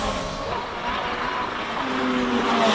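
Ferrari 488 GT3 race car at a hill climb, a steady engine roar that holds loud throughout and swells slightly toward the end as the car runs past, with a rising tonal whine near the close.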